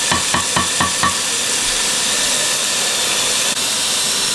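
A pot of egusi soup boiling on the stove gives a loud, steady hiss and bubbling, opening with a few quick knocks or clinks before settling into a continuous roar.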